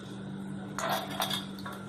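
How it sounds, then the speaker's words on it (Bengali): Dry chana dal poured into a mixer grinder jar, a brief rattling patter of grains against the jar under a low steady hum, close and fairly quiet. "প্রথমে আমি মিক্সির জারের মধ্যে ছোলার ডালটা দিয়ে দেব।"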